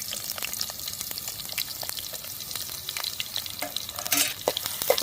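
Green chilies and onion frying in hot oil while being stirred: a steady, close sizzle with scraping stir sounds and a few sharper clinks near the end, with no talk.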